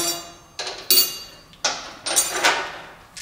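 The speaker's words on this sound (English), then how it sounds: "Put my washers on." Metal washers go onto the blade bolts of a Gravely mower, a series of about five sharp metallic clinks and taps spaced irregularly, close and clear with no talk.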